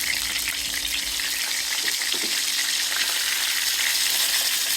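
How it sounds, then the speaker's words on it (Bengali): Pointed gourd (potol) frying in oil in a pan on a gas stove, giving a steady bright sizzle with a faint low hum beneath and a couple of soft stirring knocks near the middle. "গ্যাস আছে, গ্যাসে করবো পটল ভাজি"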